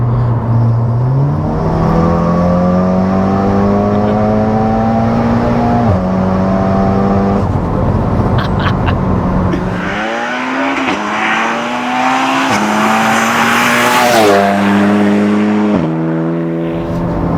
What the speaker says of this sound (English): it doesn't have a normal Golf R noise, does it?